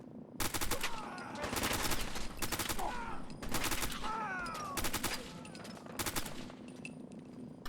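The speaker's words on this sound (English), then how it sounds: "They're just shooting bullets randomly to try and catch me out." Enemy gunfire cracks out in Fallout 4 as foes shoot blindly, bursts of rapid automatic fire in several distinct volleys, loud and fairly close with short gaps between them.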